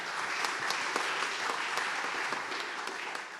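An audience at a startup demo day claps steadily for the next presenter, a continuous, fairly dense round of applause from a mid-sized crowd with no talking.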